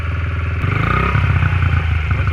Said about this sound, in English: This is the sound of the stock pipe here.